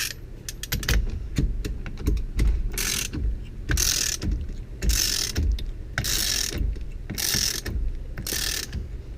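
Hand tools click and ratchet steadily while a steering wheel comes off a Ford during an ignition actuator repair, close and fairly loud, with rapid clicking runs broken by recurring louder metallic scraping bursts, no talk.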